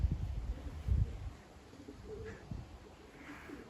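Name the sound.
young racing pigeons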